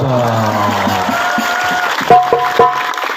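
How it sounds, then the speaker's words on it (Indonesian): An audience at a religious gathering claps in a continuous, dense patter, with a few sharper claps standing out near the end. "Tepuk tangan dulu."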